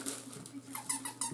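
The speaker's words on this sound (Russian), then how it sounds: "Также мягкая игрушечка звездочка с пищалочкой." A few short squeaks from the squeaker in a soft star-shaped puppy toy, quick and close, fairly quiet against a faint background hum.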